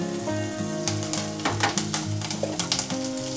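Ginger garlic paste and curry leaves frying in hot oil for chitranna rice, a close steady sizzle with repeated sharp stirring scrapes, under soft background music.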